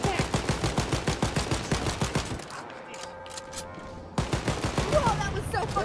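Rapid bursts of automatic gunfire in the video game Wolfenstein Youngblood, loud and close, fired in quick rhythmic volleys. The shooting stops briefly mid-clip, leaving a quieter ambient hum, then resumes just as fiercely.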